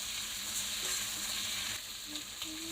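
Vegetables for a vegetable khichuri sizzle and fry steadily in a pan with a little salt, a soft continuous crackling hiss with faint stirring scrapes, no voices.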